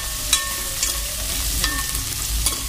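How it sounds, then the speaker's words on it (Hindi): Chopped cucumber fries in hot oil, a loud continuous sizzle with occasional stirring clinks, close up and without talk. "अब सबसे पहले हम अपनी जो खीरा कटी हुई थी उसको डाल के 1 से 2 मिनट इसको भूनेंगे।"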